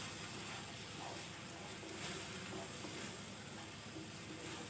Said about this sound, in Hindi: अब मसाला हम डालेंगे, इनको अच्छे से भूनेंगे जब तक मसाले में गुठली नहीं बन जाती है